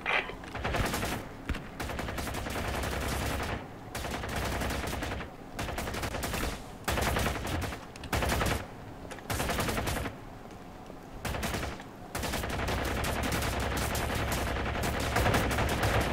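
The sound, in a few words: gunfire in the video game Ground Branch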